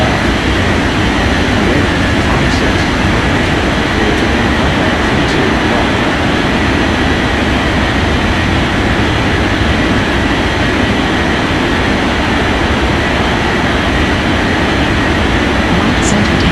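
An airliner takes off in the Unmatched Air Traffic Control game with a loud, constant, broad jet roar that fills the whole stretch, and voices sit faintly beneath it.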